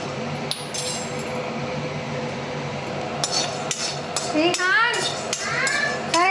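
Sorghum puffs roast and get stirred in a pan, giving a continuous close crackle and scraping with sharp clinks, while voices, including a child's, come in toward the end.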